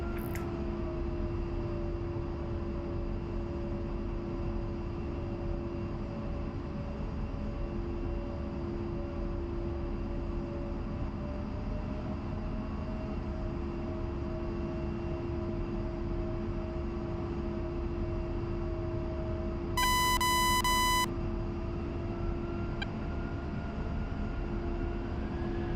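A-10C jet taxiing in the DCS flight simulator, a steady engine drone with a high whine held throughout, and a brief brighter tonal beep near the end.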